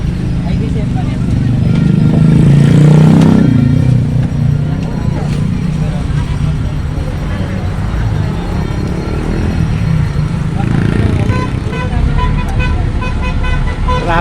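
A jeepney ride through heavy traffic near Kalayaan Park, with a constant engine and road rumble and a loud horn toot early on, plus fainter honks and passing vehicles from the surrounding traffic.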